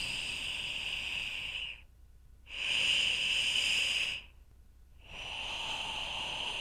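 A steady, airy hiss of breath forced through friction at the front of the mouth during a meditation breathing exercise, heard close and alone in three long strokes separated by brief silent pauses.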